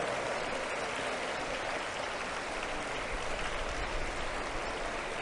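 Audience at an indoor event in New Delhi clapping together, a dense, steady roar of applause that holds evenly throughout without a pause.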